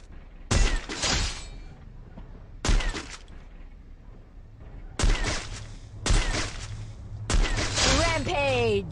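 Loud, sharp gunshot bursts from the AWM sniper rifle in the Free Fire mobile game, five separate blasts with ringing tails, spaced irregularly across the clip.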